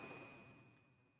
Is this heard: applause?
no